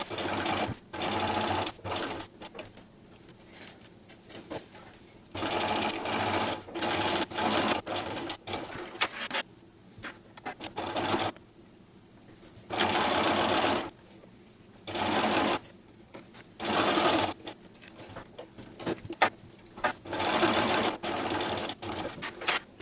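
A sewing machine stitches along a zipper pouch in repeated loud bursts of rapid whirring, stopping and starting many times up close with brief quiet gaps between runs.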